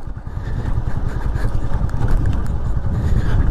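A vehicle engine brakes downhill on a rough, bumpy road with a loud, continuous rumble and rattling vibration heard from inside, with no voices.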